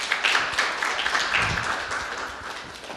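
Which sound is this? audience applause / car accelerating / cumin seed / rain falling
audience applause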